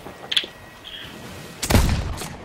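In the pirate video game Sea of Thieves, faint game ambience is broken near the end by a single loud, sharp gunshot that fades into a brief rumble.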